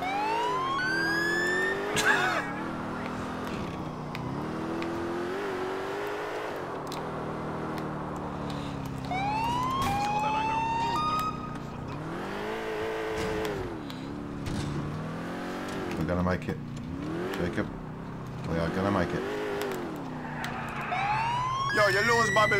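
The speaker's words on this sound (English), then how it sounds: "just what the hell's wrong with the siren?" A wailing police siren in Grand Theft Auto IV sweeps up and down repeatedly over a continuous engine drone, with voices talking intermittently beneath it.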